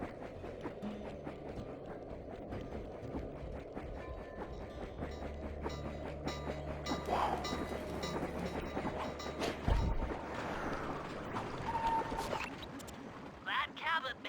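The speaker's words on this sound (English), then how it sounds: "I forgot there's too many trains here." Trains rumble and clatter past in the Sly 2 video game, a steady, fairly faint rail noise with a swell near the middle, heard beneath someone talking.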